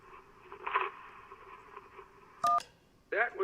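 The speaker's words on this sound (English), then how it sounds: "That was someone tearing up an electric bill." Paper being torn up, an electric bill ripped apart in the game Kentucky Route Zero, heard as a short crackly tearing burst over a low hiss, followed by a sharp electronic phone keypad tone.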